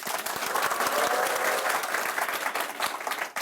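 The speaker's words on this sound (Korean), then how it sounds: "이렇게 큰 박수를 보내주셔서 제가 힘이 나고요" An audience at a Korean talk-show lecture claps loudly and steadily, a dense patter of many hands that holds strong for several seconds before starting to thin out.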